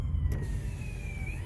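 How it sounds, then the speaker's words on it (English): An ambulance siren passing in the street, a thin rising-and-falling wail heard at a distance over low traffic rumble, faint against the background. "oh, here come the ambulance"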